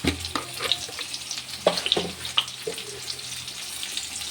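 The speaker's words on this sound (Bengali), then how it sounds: "পেঁপেটা জাস্ট একটু হালকা একটু ইয়ে করে ভাজবো," Papaya pieces fry lightly in a pan for a milky shukto, a soft steady sizzle broken by a few sharp clinks and scrapes of stirring, close and fairly quiet.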